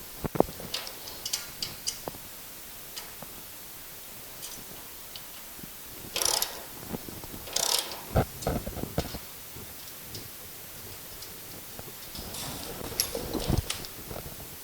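A ratchet clicks in short bursts while a part is tightened on the front subframe of a Moke during an engine install, with scattered metallic clinks and handling noises around the clicking.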